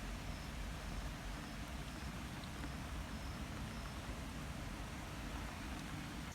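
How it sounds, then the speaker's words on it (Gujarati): Heavy rain pours down in the evening during a storm, a dense, constant hiss and rumble of water hitting surfaces that holds steady throughout with no speech. "વરસાદ ચાલુ થઈ ગયો આપણે, ફૂલ વરસાદ."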